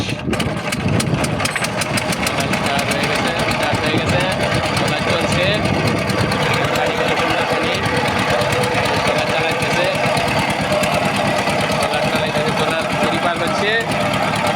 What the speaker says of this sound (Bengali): নৌকা এখানে স্টার্ট দিবে এখন স্টার্ট দিচ্ছে নৌকা ট্রলার